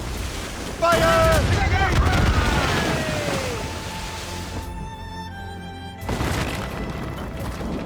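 Ship cannon fire in Assassin's Creed Rogue, a heavy boom that jolts in and rolls off into sea wind and water, with a second burst later on; shouting crew voices ring out over the blasts.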